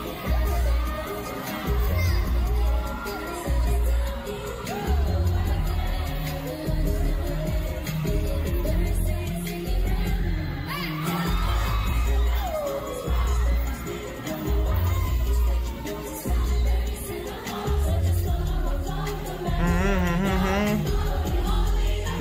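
A large crowd at a live concert in Sydney cheers and shouts, with high excited voices rising in waves over loud, pounding music throughout.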